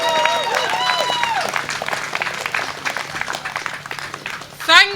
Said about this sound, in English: Round of applause for Claudia Webbe.